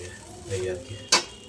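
A utensil stirs fried paneer into fried rice in a pan: a soft scraping, then one sharp metallic clank against the pan, brief and close.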